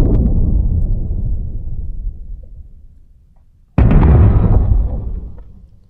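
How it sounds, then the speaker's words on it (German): Two heavy, booming underwater explosions, each a loud deep burst that swells and then rumbles away, the second starting abruptly after a near-silent gap; AI-generated sound effects with no talk over them. "Zum Beispiel Explosion under the water, also unter dem Wasser."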